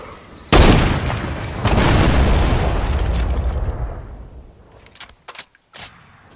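Enemy sniper fire in a heavy-sniper shooter video game: one sudden loud blast opens a long, roaring rumble that slowly fades, followed by a few sharp, separate shots near the end.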